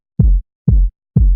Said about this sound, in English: I've just EQ'd and rolled it off above 200 hertz, just to make it a sub kick